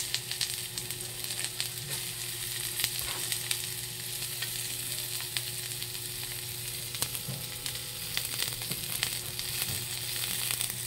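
Onion and garlic fry in a hot pan with a continuous close crackling sizzle, punctuated by small pops and stirring clicks, with no talking.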